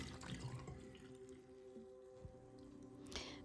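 Cold tap water running over a sweater being rinsed by hand, a soft continuous splashing stream with small squishy handling sounds, quiet and close.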